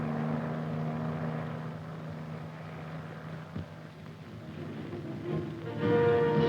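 A CH-47A medium transport helicopter in a 1960s US Army film, heard as a steady droning rotor and engine hum that swells slightly louder toward the end.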